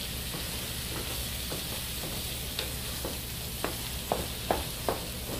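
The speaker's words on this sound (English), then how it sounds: "Mix those onions and garlic up in there." Onions and garlic fry with a steady low sizzle in a pan, and several sharp scraping clicks of a spoon stirring them come through near the end.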